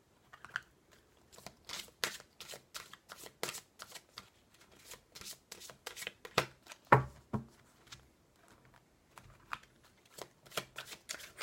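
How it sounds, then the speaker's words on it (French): Oracle cards shuffled by hand in a rapid series of crisp riffling bursts, with a few sharper slaps, close and fairly quiet, no talking. "Allez, je mélange les cartes."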